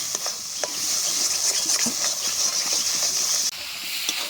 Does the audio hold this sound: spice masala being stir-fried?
yes